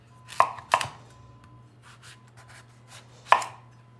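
A knife chops through a squash on a cutting board, cutting it into quarter-inch slices. Three sharp, close cuts land with a steady low hum underneath and softer shuffling between them.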